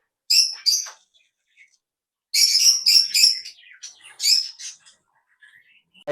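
Pet birds at a seller's place, including conures, give sharp, high chirps and squawks in two clusters of quick bursts separated by quiet, heard close and fairly loud.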